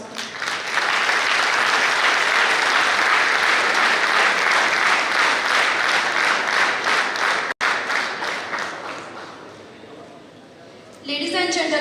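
An audience at an IT symposium in Karad breaks into loud, sustained applause lasting around ten seconds of dense clapping, then fades away as another sound starts at the end.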